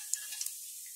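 Cumin seeds sizzle in hot mustard oil, a soft, steady hiss with a few faint crackles and pops, heard alone.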